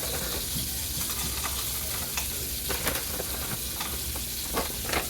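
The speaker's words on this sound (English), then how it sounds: "add in some of these bacon crumbles to render the fat out of them and make them crispy" Bacon crumbles frying in margarine crackle and sizzle steadily up close, with scattered sharp pops and occasional stirring scrapes.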